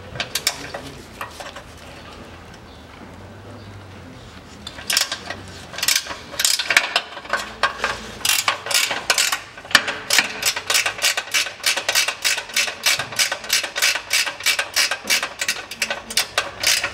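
Ratchet wrench clicking in rapid steady bursts while loosening nuts on the rear eccentric adjustment bolts of a Toyota Mark II, close and loud, following a quieter stretch of handling noise.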